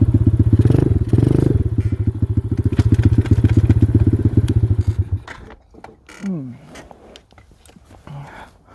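An X-PRO dirt bike engine running roughly with carburetor trouble, a loud close sputtering pulse for about five seconds before it drops away to quieter rustling and brief sounds.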